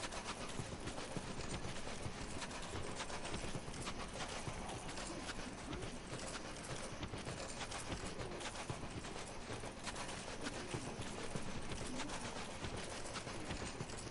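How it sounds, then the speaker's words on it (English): Horse hooves galloping in Dark Souls 2, a steady dense clatter that runs continuously at even loudness throughout, with no talking. "I'm gonna get hit by a horse."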